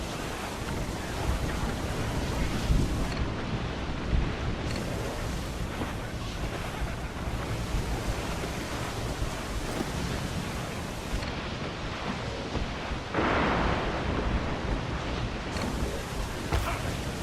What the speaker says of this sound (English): Storm there, Captain! Looks bad!